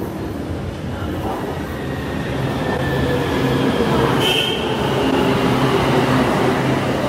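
Inside a moving metro train near Mo Chit Station in Bangkok: a loud, steady rumble with rattling wheels and a brief high squeal midway, no voices.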